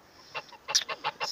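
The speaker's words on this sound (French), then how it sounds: "Les oies, c'est une très belle race d'oiseaux." Geese honking close by, a quick series of about six short, sharp calls in an uneven rhythm over a quiet background.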